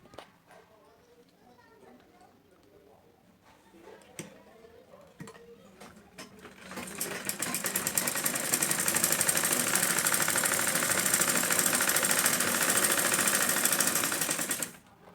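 A sewing machine stitches blouse pieces together. Faint handling noises come first, then a loud, rapid, steady mechanical chatter runs close up for about eight seconds before it stops.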